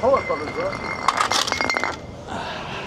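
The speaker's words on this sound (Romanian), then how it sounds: "S-a spart și sticla." A glass bottle breaks on a city street, a brief bright shattering clink close by, with a person talking over it.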